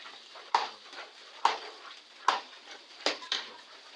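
Skinless peanuts and plenty of garlic frying in a pan, stirred with a utensil that scrapes sharply about once a second over a soft, steady sizzle, close up with no voices.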